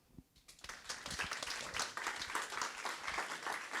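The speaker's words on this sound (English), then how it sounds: "One more round of applause" An audience at a metaverse summit panel breaks into applause, a few scattered claps swelling quickly into steady, moderately distant clapping from the room.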